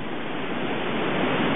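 Arve Falls in Hartz Mountains National Park, Tasmania, roars as a steady, unbroken rush of falling water, loud and close, with no voices over it.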